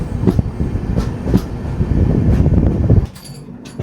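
Mangalore–Rameswaram Express rolling along the rails with a steady, loud rumble and rhythmic clatter from close by, easing off near the end.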